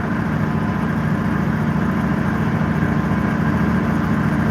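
A John Deere 8850 tractor with a V8 engine idles steadily, a continuous close, even rumble with no talk over it.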